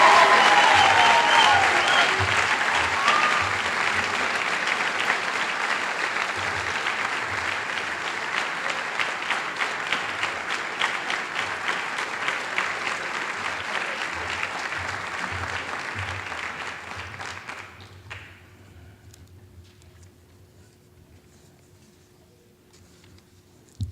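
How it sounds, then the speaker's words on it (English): An audience at a high school senior recognition ceremony gives sustained applause, a thick wash of many hands clapping for about eighteen seconds that gradually thins and dies away into room quiet. "Please give them a round of applause."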